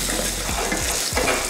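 Lentils, shallots, garlic and dried red chillies fry in a pan for a Tamil coconut-free chutney, giving a steady close sizzle with a few stirring scrapes and no talk.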